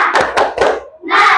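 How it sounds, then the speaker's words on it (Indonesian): Children in a classroom during an Islamic religious education lesson perform a rhythmic spirit clap: three loud, evenly spaced group claps close by, followed by a short burst of noise from the group. "Tepuk semangat."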